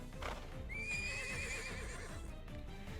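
A horse in the video game Twisted Wonderland lets out a loud, drawn-out whinny over a steady, rhythmic clip-clop of hooves, the neigh rising and trembling before fading as the hoofbeats continue.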